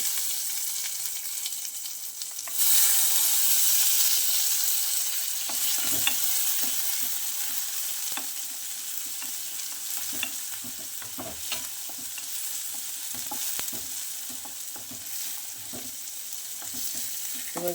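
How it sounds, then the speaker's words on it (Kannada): Onions, mustard seeds and curry leaves hit hot oil on a griddle pan with a sharp rise into loud sizzling, which continues as a steady close crackle with rhythmic stirring scrapes. "ಎಣ್ಣೆ ಕಾಯಲಿಕ್ಕೆ ಇಟ್ಟಿದ್ದು ಸಾಸಿವೆ ಕರಿಬೇವು ಈರುಳ್ಳಿ"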